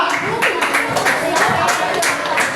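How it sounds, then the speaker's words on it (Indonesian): Primary school class clapping for a student group, several distinct rhythmic claps from a small group of children, close and fairly loud, with voices underneath. "Tepuk tangan buat kelompok 2"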